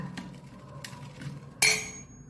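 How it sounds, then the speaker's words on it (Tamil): A metal spoon pokes and breaks up hot ragi vermicelli in a pan, giving several soft scraping taps followed by a sharper metallic clink that rings briefly. "இப்படி கரண்டி வச்சு கூட நம்ம இப்படி குத்தி விட்டால் அது உதிர்ந்து போயிடும்"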